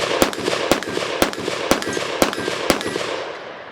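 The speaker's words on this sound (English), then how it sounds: "we're going to shoot the Ragnarok out of this thing" Leviathan Ragnarok AR pistol with a short 4.5-inch barrel, fired outdoors at a range: six loud, sharp shots spaced evenly about half a second apart, each leaving a brief echo, then a fading ring-out.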